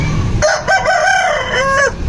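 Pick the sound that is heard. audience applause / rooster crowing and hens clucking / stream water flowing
rooster crowing and hens clucking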